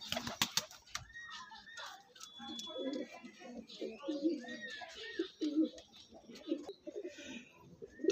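Andhra breed pigeons coo softly in low, repeated calls beneath a man's ongoing speech, with a few sharp clicks and faint rustling close by.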